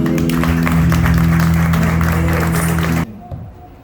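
A church congregation claps over sustained low music during a family worship service, a thick, continuous patter that breaks off suddenly near the end, leaving near quiet.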